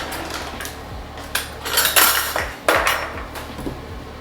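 Close, hard knocks and taps of a knife on a cutting board or dish as a stick of butter is cut, several irregular clacks with a scraping sound between them.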